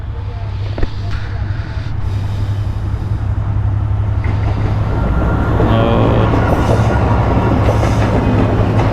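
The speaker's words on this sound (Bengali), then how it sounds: "ওই যে দূরে ট্রেন আসতেছে দেখা যায়" A train approaches, rumbling steadily with a deep droning hum and faint rhythmic clatter, holding loud and close throughout, with a voice briefly audible.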